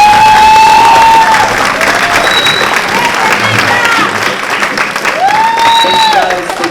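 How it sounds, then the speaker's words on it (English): A concert audience applauds and cheers for student performers of a high school wind symphony, with sustained dense clapping, a few whistles rising above, and a steady crowd roar. "get another round of applause for all of the students that performed tonight"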